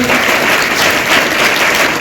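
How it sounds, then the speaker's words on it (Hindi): An audience at a village school event in Dharamshala gives loud, dense, sustained applause, a close wall of clapping with no pauses. "हम सबसे पहले भगवान का अभिनंदन करने के लिए जोरदार तालियां लगाएं"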